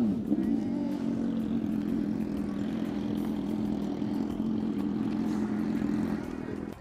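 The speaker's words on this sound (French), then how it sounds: "c'est dans cette pétarade entre vrombissement de moto" Motorcycle engines rev and drone steadily at a festival in Yamoussoukro, a loud continuous mid-pitched roar with some clatter, sustained close by throughout.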